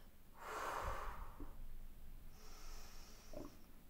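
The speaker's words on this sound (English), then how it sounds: "And breathing it out and releasing the breath." A single deep, slow exhale through the nose during a guided breathing exercise: a soft, close rush of air that swells and then fades, followed by quieter breath sounds.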